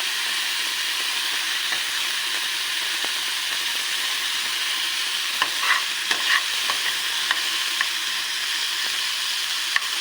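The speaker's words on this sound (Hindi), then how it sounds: "बट मैं इसे बटर में फ्राई कर रही हूँ" Beef frying in butter in a pan over a slow-to-medium flame for a stovetop pizza, a steady close sizzle and hiss with occasional small pops and scrapes, no voices.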